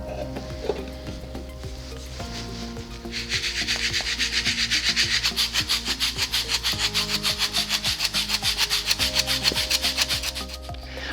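Ground coffee shaken back and forth in a Kruve sieve for AeroPress brewing, a rapid rhythmic gritty rasp that grows louder after a few seconds, close, over steady background music with no talking.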